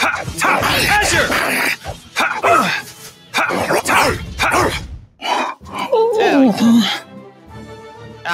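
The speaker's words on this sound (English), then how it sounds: "This was the dog yawning." A pet dog gives a drawn-out yawning whine and some high whimpers, mixed in with close, loud human talk.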